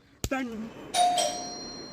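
A two-tone doorbell chime rings once, ding then dong, after a short burst of voice at the start; the tone lingers and fades.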